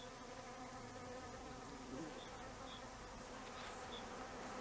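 A swarm of tiny wasps buzzing around a paper-like nest on a shaken palm leaf in Costa Rican forest, a dense continuous droning hum, close and steady throughout.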